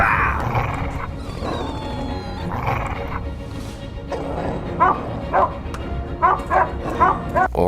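Dogs bark and yip in short bursts during a dog attack scene in a movie-making simulation game, the barks growing sharper and more frequent toward the end over a busy background of music and effects.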